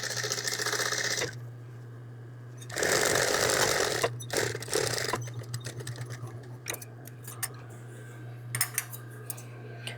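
A serger stitches across thick terry towel fabric, with steady mechanical whirring in two bursts and softer clicking and handling noises between them. No one speaks.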